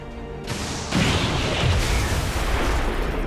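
A rocket blast in XCOM 2 Long War 2: a loud, broad roar kicks in and then swells to a heavier rumble that holds steady to the end, with no talk over it.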